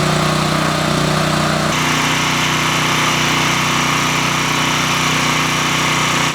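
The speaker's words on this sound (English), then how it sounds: "Right now we have the crew grinding off a few of the highs" A concrete floor grinder works a garage slab, grinding down high spots before an epoxy mica-flake coating. It gives a loud, steady, close motor drone with gritty abrasive hiss, shifting slightly in tone early on and then holding constant, with no talking.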